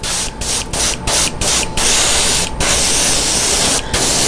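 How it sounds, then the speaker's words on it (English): An airbrush sprays black paint as a loud, steady close hiss in short bursts, with several brief gaps before one long continuous pass. "airbrushing here, I'm not even turning the fan on for this."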